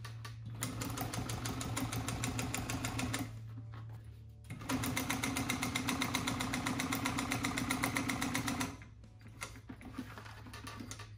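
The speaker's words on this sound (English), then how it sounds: "I'm sewing a little faster because I just wanna kind of get through this" An upholstery sewing machine stitches a traditional French seam in two long, fast, steady runs, its loud motor whir and rapid needle chatter pausing briefly between them.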